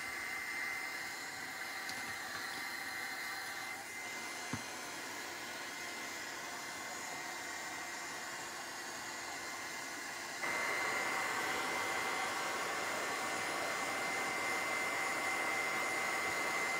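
A heat tool or hair dryer blows steadily while drying a metal-and-rust craft frame, a continuous airy whoosh that shifts to a louder, higher setting partway through, with no talk.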